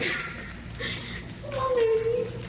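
A service dog in training whimpers, giving a thin, rising then falling whine near the microphone while people talk.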